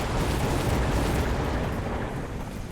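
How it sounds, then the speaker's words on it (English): A strike missile explodes in the robot battle game Mechabellum, giving a loud, dense, rumbling blast that fills the whole moment and slowly fades without any voices. "Strike missile."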